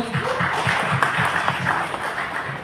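Audience applause at a concert press event, a steady patter of many hands under a low murmur of voices throughout.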